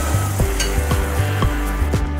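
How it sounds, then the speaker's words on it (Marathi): Curry leaves and asafoetida sizzling in hot oil with popped mustard seeds for a tempering, a loud close crackling fry with sharp pops roughly every half second and no voices. "मोहरी छान फुलल्यानंतर कढीपत्त्याची पाने मी थोडीशी कापून घेतलेली आहेत, ती टाकायची आहे आणि हिंग टाकायचं आहे."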